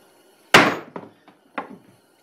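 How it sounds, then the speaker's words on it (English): A hammer with a hard steel core recessed into its face strikes once sharply and loudly, followed by three lighter, quieter taps, each dying away quickly in a quiet room. "when you hit with the hammer,"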